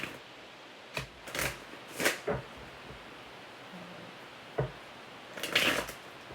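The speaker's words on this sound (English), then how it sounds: "I don't know why this deck is not wanting to shuffle." Someone shuffles an Everyday Witch Tarot deck in brief papery bursts, with a few soft flicks and rustles separated by quiet gaps. The sound is close but faint.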